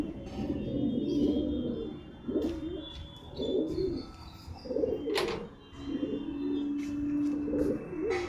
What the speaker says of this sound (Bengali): আমার বাড়ির অনেক পুরাতন পায়রা, ছেড়ে দিলাম।